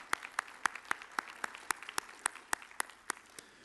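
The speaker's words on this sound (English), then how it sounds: "That is worth applause right there." Sparse, evenly spaced hand claps, about four per second, sound faint and distant in a large conference hall during an opening session, with no other sound around them.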